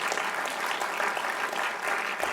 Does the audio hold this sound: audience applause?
yes